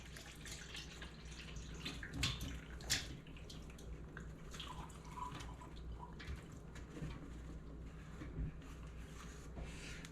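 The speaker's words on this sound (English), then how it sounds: "Now we're going to drain the cucumbers." Liquid poured off sliced cucumbers into a sink while draining them for bread and butter pickles, a soft continuous trickle and splash with scattered drips, fairly faint against a low steady hum.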